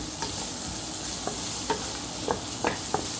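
Onions frying in oil for an eggplant omelette, a steady broadband sizzle with several soft scrapes of a spatula stirring through the pan, close and alone.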